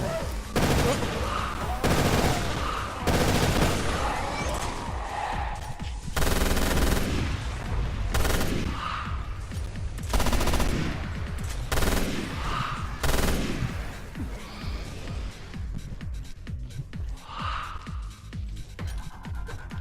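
Video game gunfire, bursts of machine-gun fire and single shots in an irregular series of loud, close volleys with brief gaps, a voice sometimes speaking amid the shooting.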